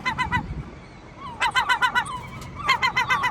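A large seagull calls near Portland, Maine, with loud, close bursts of rapid, harsh repeated squawks in three series separated by brief pauses, over faint outdoor background noise.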